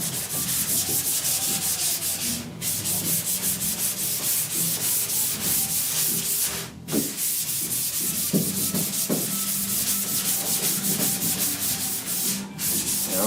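Block sanding of primer/surfacer on the rusty roof of a 1969 Chevrolet C10 truck makes a continuous rhythmic scraping of back-and-forth strokes, close and steady, with brief pauses and no talking.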